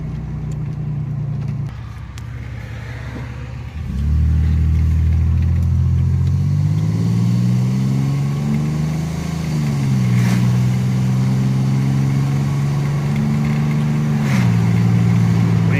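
A Chevrolet Celebrity Eurosport's engine runs while driving, a loud steady drone that drops at first, then climbs in pitch as it accelerates and eases through gear shifts, with no talking.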